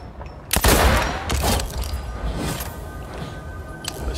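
Rifle gunfire in the video game Fortnite, with a sharp, loud shot followed by a few more cracks over the next second, then reverberant game ambience trailing off under faint background sounds.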